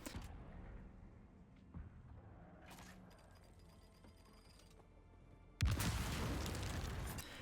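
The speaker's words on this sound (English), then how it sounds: "activate the button, and the turret will go boom a few minutes later" A turret blowing up in Dune Awakening during the CHOAM Salvage Rights event: after quiet mechanical game ambience, one loud deep boom bursts in and rumbles on for the last couple of seconds.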